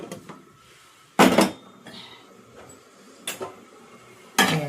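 A cooking pot set onto a home stove for making upma gives a few sharp metallic knocks and clanks, close and spaced apart, over a quiet kitchen background without talk.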